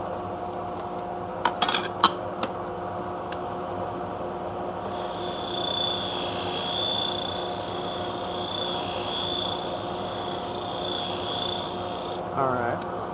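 A pet grooming shear is ground on an abrasive, a steady whirring rasp running through the middle stretch after a few sharp clicks and knocks, over a constant motor hum.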